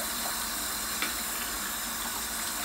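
Warm water streams from a faucet as a rescued fawn drinks, a constant soft hiss heard close by without any voices.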